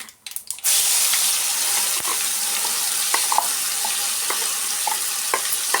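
Ground onion mixture for onion thokku sizzles loudly in oil in a pan, a steady close fry with scattered stirring scrapes and clicks; there is no talking.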